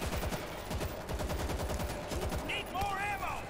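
Rapid automatic gunfire from the zombie shooter game World War Z comes in dense, loud, overlapping bursts. Brief electronic chirps sound near the end.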